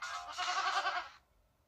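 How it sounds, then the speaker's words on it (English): Goats bleat in a continuous, quavering cry lasting just over a second, then the sound drops into near silence. "What's with all the goats?"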